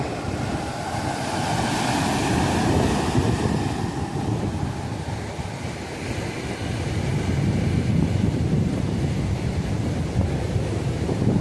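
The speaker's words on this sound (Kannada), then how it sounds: "ನೋಡ್ತಿರ್ಬೋದು ಅಲೆ ನೋಡಿ ಹೇಗೆ ಬರುತ್ತೆ ಅಂತ." Ocean waves roll in against rocks at a coastal delta point, a continuous surging wash with swells rising and falling, wind buffeting the microphone and no voices.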